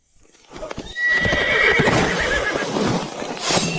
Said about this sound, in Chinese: 清河，你听，是不是马叫声？